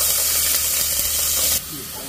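Onion dropped into a hot pan for a pasta sauce gives a steady, loud, close hissing sizzle that cuts off suddenly after about a second and a half, leaving a quieter background.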